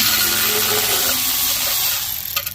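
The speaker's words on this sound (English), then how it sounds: "you're gonna take your 10 mil again, drive, start taking it loose" A power driver with a 10 mm socket whirs loudly and steadily as it backs out screws on a Honda GCV190 small engine during a teardown, then tapers off near the end.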